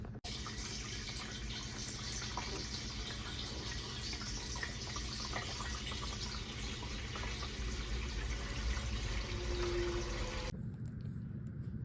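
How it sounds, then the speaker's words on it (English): Steady rushing water from a garden hose pouring into the water tank of an indoor Lettuce Grow farm stand grow tower, a continuous even splash that runs for about ten seconds before cutting off. "So we got our garden hose and we're about to fill it up."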